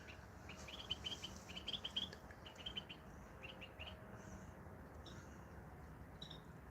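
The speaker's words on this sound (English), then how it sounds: "Ah, listen to the birds chirping." Small birds chirping outdoors on a snowy Sunday, quick high twittering bursts in the first few seconds then scattered calls, faint and somewhat distant over quiet background hiss.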